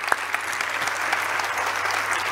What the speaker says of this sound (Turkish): O zaman belediyeyi alkışlayacaksınız yani, beni değil.